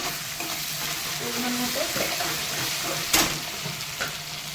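Garlic and salt frying in a pan while cooking a koi fish dish, with a steady loud sizzle throughout and a brief stirring scrape near the end, no voices over it.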